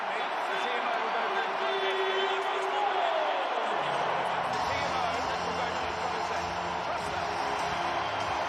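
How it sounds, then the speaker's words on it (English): Large stadium crowd roars at a France v Scotland men's rugby union Six Nations match in Paris, a dense, loud sustained cheer that swells and stays constant throughout, with a faint whistle-like tone early on. "And the crowd is launched into a frenzy"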